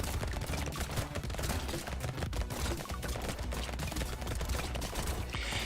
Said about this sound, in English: The fast firing SMG is nice though, so now I have 2 fast firing guns